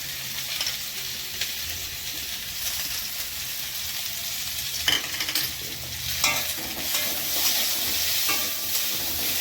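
Ginger paste fries in hot oil in a pan, a close, steady sizzle with scraping stirs and a few sharper clatters of the utensil, no voices.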